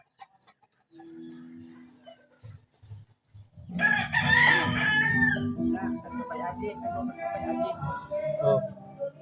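A rooster crows loudly and close, then hens cluck around it at a Philippine home yard, with scattered clucks before the crow and someone talking briefly amid the birds.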